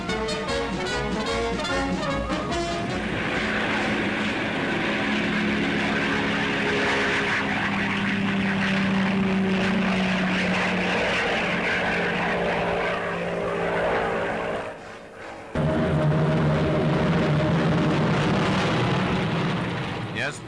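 A USAAF P-47 Thunderbolt fighter drones past with a loud, sustained propeller roar that swells and fades, briefly dipping before returning, heard under period narration.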